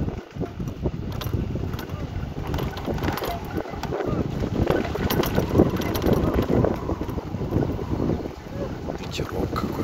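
Steady outdoor wind buffeting a microphone near a pagoda with cows nearby, a broad low rumble throughout with occasional gusts, while a voice talks at times.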